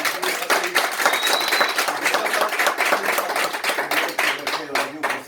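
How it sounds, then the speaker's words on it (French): Lively audience applause at a live event, a dense, sustained stream of sharp handclaps from a crowd, close and fairly loud, holding steady for several seconds before thinning slightly at the end. "sous vos applaudissements."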